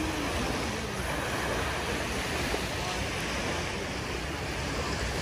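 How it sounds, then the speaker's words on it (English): Loud ocean waves break on the shore in a steady, unbroken roar that fills the whole stretch, with no clear gaps between breakers. "these waves are pretty loud."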